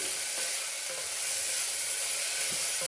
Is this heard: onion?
yes